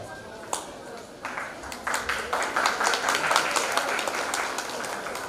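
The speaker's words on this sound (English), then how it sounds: "applause for our remarkable school choir" Applause for a school choir at a school exhibition starts with a few isolated claps, then swells into fuller clapping from the audience that builds and holds at moderate volume.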